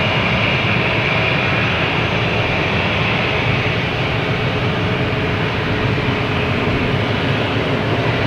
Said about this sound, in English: Yep, gonna take off in the big boy runway.